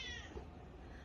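A kitten meows softly and continuously over a muffled, rumbling background at moderate distance. No one speaks over the sound.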